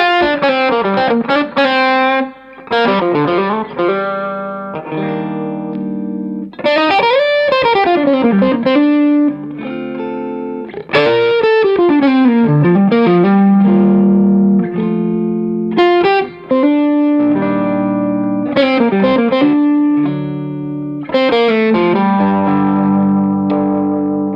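A sustained electric guitar with warm overdrive from a JAM Pedals Double Dreamer (Tubedreamer side) plays bending, singing lead phrases, loud and close, with no voices.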